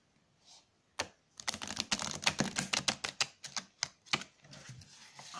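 A deck of stiff new oracle cards is shuffled by hand, a quick flurry of close, crisp riffling taps and flicks that thins toward the end.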